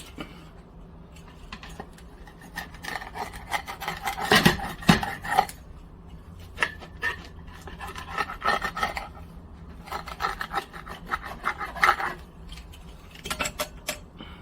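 Irregular hard rattling and clattering close by as a pizza stone wobbles against a countertop, with louder knocks near the middle.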